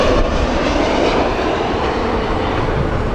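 Airliner arriving at Heathrow Airport on a sunny day, a loud continuous broadband jet roar holding steady throughout, close and without any talking.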